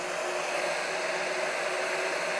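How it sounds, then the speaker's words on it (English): A hot air gun runs steadily in a lab during a liquid-liquid equilibrium experiment, blowing a constant close whooshing roar like a hairdryer, with no other sound. "Technical name is a hot air gun."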